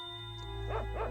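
Two short barks from a dog companion in the video game Secret of Evermore, sounding one after another near the end over steady game music.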